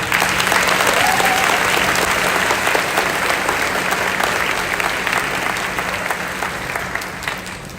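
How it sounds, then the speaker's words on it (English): Sustained applause from a graduation ceremony audience at a middle school, loud and dense at first and slowly fading over several seconds, with no talking over it. "Can we please give them a round of applause?"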